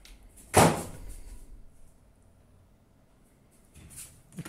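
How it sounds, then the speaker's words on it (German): A single sharp door slam lands early, close and loud, then fades into a quiet room with only faint creaks after it, in a setting thought to be haunted. "Tür knallt schon wieder zu."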